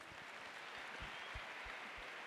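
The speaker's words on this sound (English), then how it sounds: "Can we give our speakers a round of applause?" A crowd at an ANC election rally in South Africa applauds its speakers, a faint, distant wash of clapping that stays even throughout.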